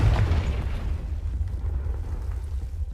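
A Confringo blasting spell explodes in Hogwarts Legacy on PC: a heavy, close boom at the start that decays into a long rumbling roar over a few seconds, with no talking.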